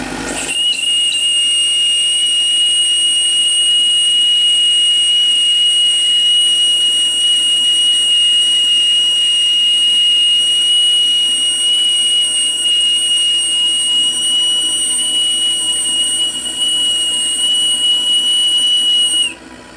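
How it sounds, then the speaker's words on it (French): A model steam gunboat's gas burner roars at full power, a steady loud hiss with a sustained high whistling tone running unbroken for nearly twenty seconds before cutting off at the end. "Le chalumeau est reparti plein pot."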